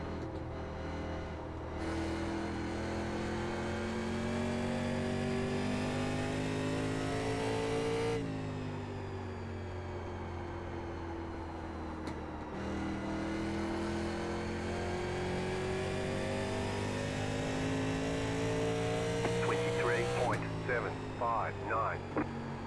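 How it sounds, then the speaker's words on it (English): Race cars passing in a run of four, engines droning and revving loudly with pitch shifts as each goes by, a steady continuous roar throughout with a voice talking over it. "Four cars about to pass him."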